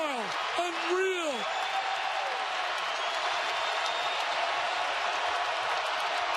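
A basketball arena crowd roars and cheers after an explosive baseline dunk at a North Carolina NCAA game, a steady wash of noise with a few whoops at the start and no break.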